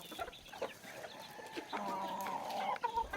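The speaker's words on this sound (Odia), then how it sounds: "ଆଉ ଅଛନ୍ତି ବାହାରି ନାହାନ୍ତି କୁକୁଡ଼ା।" Chickens cluck nearby, soft throaty calls and a longer drawn-out cackle, fairly quiet against a faint outdoor background.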